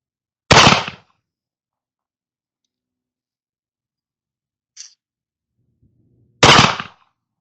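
A Colt pocket pistol fires two sharp, loud gunshots about six seconds apart, each with a short decay, and a faint click falls in the silence between them.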